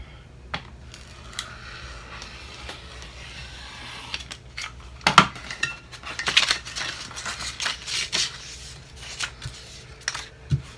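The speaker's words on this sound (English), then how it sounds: "I'm going to cut some off the bottom." Scissors snip through sublimation paper being trimmed to fit a 20oz skinny tumbler, giving close, intermittent cuts and papery rustles with a few sharper clicks midway and no talking.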